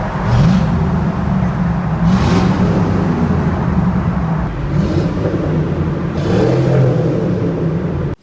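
Chevrolet Tahoe V8 truck with a modified exhaust, loud and close, with several rising revs and deep rumbling pulses over a continuous engine drone and no voices.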